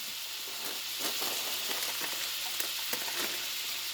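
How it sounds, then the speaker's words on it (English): A quarter cup of butter sizzles in a pan with a steady, loud, crackling hiss that continues throughout. "Now we're going to add that 1/4 cup of butter. Listen to that sizzle."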